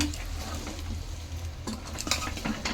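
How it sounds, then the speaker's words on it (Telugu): Village-style chicken masala being mixed in a pot, close wet stirring and scraping with a few clinks of a spoon against metal over a low steady background, with no talking. "బాగా కలుపుకోండి."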